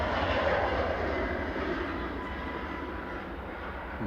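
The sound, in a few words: TUI airliner from Larnaca at Manchester Airport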